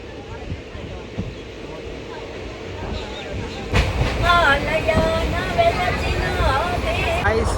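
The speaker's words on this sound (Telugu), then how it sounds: "మళ్ళీ మన ట్రైన్ అయితే పిఠాపురం నుంచి అయితే స్టార్ట్ అయిపోయింది" A passenger train, the Simhadri Express on the Guntur to Visakhapatnam run, rolls on after pulling out of Pithapuram. A low rumble swells noticeably partway through, with wavering tonal sounds and nearby chatter above the running noise.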